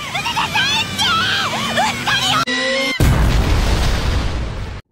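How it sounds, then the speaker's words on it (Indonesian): A bomb goes off in a game-style scene: a sudden full-band blast near the three-second mark cuts through busy chirping and whistling effects, then a dense rumbling roar lingers loudly to the end. "ia malah terpeleset dan tak sengaja menekan tombol bomnya, sehingga bomnya itu pun akhirnya meledak"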